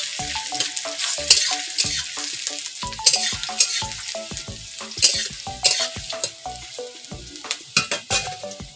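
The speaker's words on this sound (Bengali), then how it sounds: "পেঁয়াজ কুচি, পেঁয়াজটা লাল লাল করে ভেজে নেব।" Chopped onion frying in a pan with whole cumin, cooked until reddish-brown: a continuous close sizzle broken by repeated scraping stirs of a spatula, with no talk.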